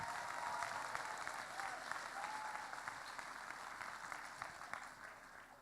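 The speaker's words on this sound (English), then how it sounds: "How about a round of applause for all of them?" Continuous applause from the audience at the Illinois FTC State Championship 2017 opening ceremonies, steady and dense clapping throughout with crowd noise mixed in.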